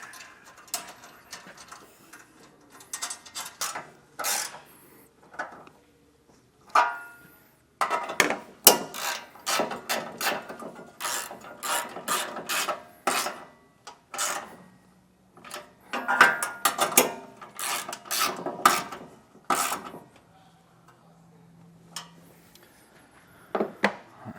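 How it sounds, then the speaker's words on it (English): A wrench cranks down bolts on MORryde Flip Tread RV steps on a 2018 Heartland RV, giving bursts of rapid metallic clicking and ratcheting with short pauses and a few knocks between. "just kind of crank these down with our wrench"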